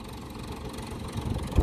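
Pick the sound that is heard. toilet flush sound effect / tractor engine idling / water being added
tractor engine idling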